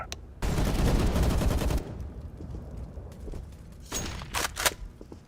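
An incendiary grenade going off in Counter-Strike: Global Offensive, a loud dense crackling burst of about a second and a half, then a quieter rumble and a few sharp popping hits.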